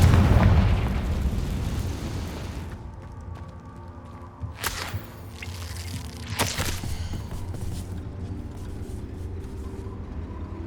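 Fiery Confringo spell blasts from Hogwarts Legacy: a loud rushing burst at first, then two sharp cracking pops a couple of seconds apart, over a quieter humming game background.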